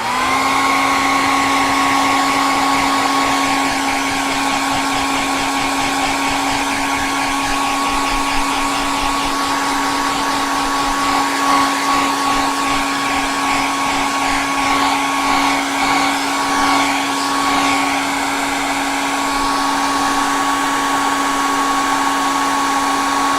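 A hairdryer blows continuously at close range, a loud steady whirring hum with a high whine that never lets up.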